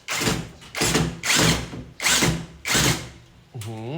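A screw gun whirs in five short, evenly spaced bursts as self-drilling screws are driven in, followed by a brief voice at the end.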